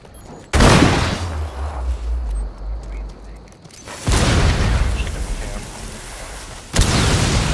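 Grenade blasts in Rainbow Six Siege hostage match: three loud, sharp booms spaced a few seconds apart, each cutting in abruptly with a heavy rumbling tail over low game noise.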